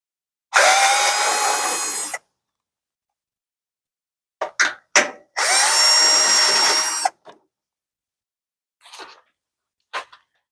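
A power drill removes bolts from the cover of a Powerwinch P92001 electric winch on a popup camper, two long loud whirring runs with short spurts and clicks between, close up in quiet surroundings.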